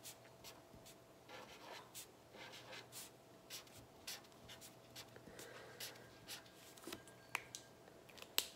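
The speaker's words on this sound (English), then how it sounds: "go ahead and get your writing utensil and write your name in your best handwriting" Pencil writing a name by hand on paper, faint close scratchy strokes in short, irregular bursts with small pauses, quiet and with no talking.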